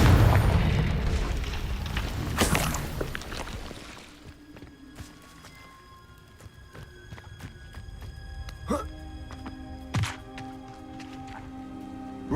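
Confringo fire spell in Hogwarts Legacy, a loud booming blast with a rumbling roar that fades into a quieter game ambience, followed by later smaller impacts and tonal game effects.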